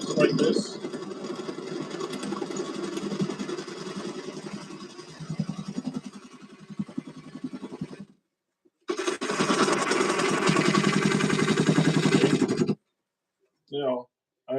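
A wood lathe spins while a gouge cuts the turning wood, a steady loud rasping drone that stops briefly and resumes, then ends in a couple of short scrapes.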